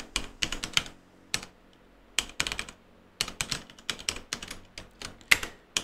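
A password is typed on a computer keyboard in short bursts of crisp, close key clicks separated by brief pauses, with no voice.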